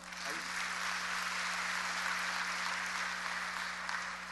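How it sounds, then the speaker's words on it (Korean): Congregation applause during a church sermon, a steady broadband wash of clapping that holds evenly throughout over a faint low electrical hum, with no talking heard. "박수 한번 칩시다."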